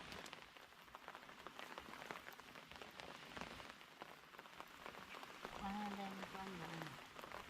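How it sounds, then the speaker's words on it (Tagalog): Rain falls steadily on outdoor surfaces during planting work, a faint, dense patter throughout with a brief voice near the end. "Kusog-kusog ba ang ulan?"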